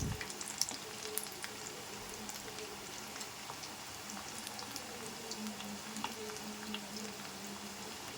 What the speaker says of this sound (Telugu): ఇలా మీడియం ఫ్లేమ్లో పెట్టుకొని ఫ్రై చేసుకుంటే పీస్ అనేది బాగా కుక్ అవుతుంది